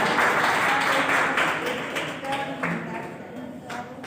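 Training participants clap together in an indoor in-house teacher training session, a dense, steady patter of hands that slowly thins out over a few seconds, with voices talking over it.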